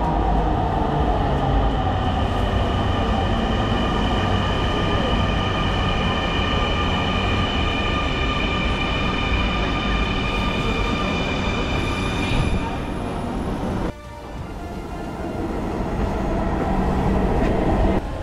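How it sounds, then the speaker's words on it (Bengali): A Dhaka metro rail train pulls into a station with a loud, continuous roar and rumble of wheels on track and thin metallic squeals. The roar dips briefly near the end, then swells again. "যেখান থেকে মেট্রো রেল উঠবে এবং ট্রেনও চলে আসে।"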